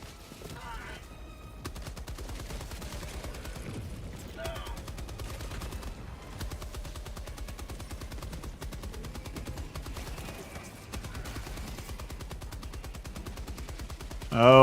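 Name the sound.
gunfire from video game Helldivers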